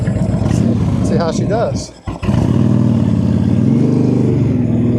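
Honda Sabre 1300 motorcycle pulling away and accelerating on a ride, its steady loud engine drone rising in pitch near the end, with a short dip midway and someone talking over it.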